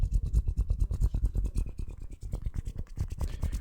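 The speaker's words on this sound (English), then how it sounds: "you can use the joints and just rub them together. You get this sound." Finger joints rubbed together close to a microphone for ASMR hand sounds make a quick, rhythmic series of dry scratchy strokes, soft and intimate, with no talking.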